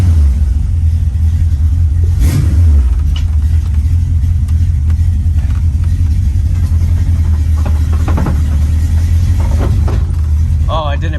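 A car engine idles after an oil change, a loud, steady low rumble holding even throughout, heard close with faint mechanical clicks and noises over it.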